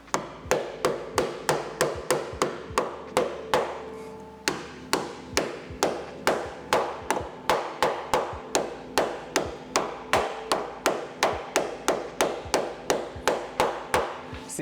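A hammer bending a car's metal firewall into place, striking in a fast, steady series of sharp metallic blows with a short pause near the middle, close and loud.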